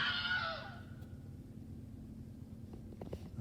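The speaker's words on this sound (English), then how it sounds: "And Wilhelm scream again." A Wilhelm scream sound effect opens the clip with one loud, short shriek that fades quickly into a low, steady hum.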